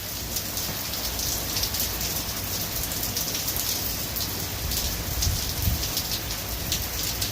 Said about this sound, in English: we probably haven't had a good rain like this since, yeah, it'd be almost a week.